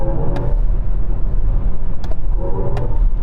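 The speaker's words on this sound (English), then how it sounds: "the car will make various noises depending on which mode you're in" An electric car in sport mode plays a synthetic acceleration tone while speeding up, a steady loud hum with road and wind noise over a few seconds, no talking.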